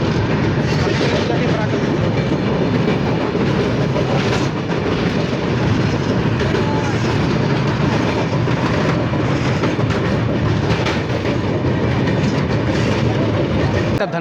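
The Black Diamond Express, running between Dhanbad and Howrah near Barakar, makes a loud, steady rumble from inside the train, with rhythmic clickety-clack of wheels on rail joints throughout.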